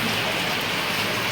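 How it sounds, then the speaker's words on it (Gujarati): Rain falling steadily during an outdoor shoot, a dense continuous hiss of drops on surfaces, loud and close with no pauses. "આ શૂટના વચ્ચે વરસાદ પડી ગયો."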